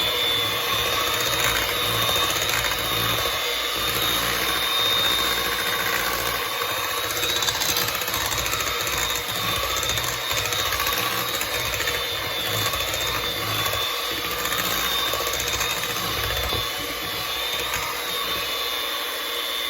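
Flour is mixed into pecan pumpkin bread batter under a steady, loud motor drone that runs unbroken for the whole stretch with no talking.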